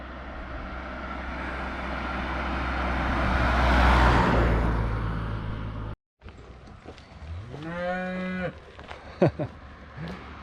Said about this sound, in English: Hey, other cow. Are you yelling around?